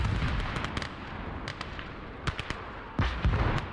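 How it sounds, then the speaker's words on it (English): Artillery fire in the Call to Arms: Gates of Hell war game: a dense battlefield rumble punctuated by repeated sharp distant shots and booms, with a cluster of heavier blasts near the end; no voices. "This artillery piece is a problem right now."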